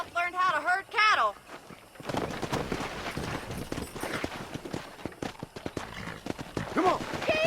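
Horse hooves galloping in Red Dead Redemption while herding cattle: a voice shouts briefly, then a fast, steady clip-clop of hooves runs on at close range.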